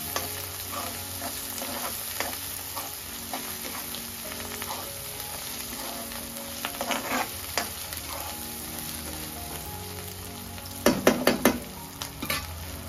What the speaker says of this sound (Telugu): అది ఫ్రై అవుతుంది.